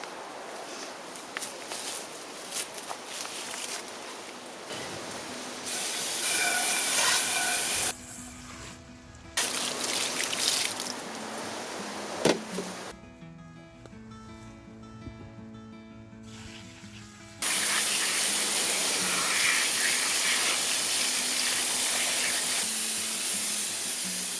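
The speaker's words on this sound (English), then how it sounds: "I need this water hose." A garden water hose sprays outdoors in a long, steady hiss that cuts off, starts again and changes intensity several times, close and fairly loud, with no talking.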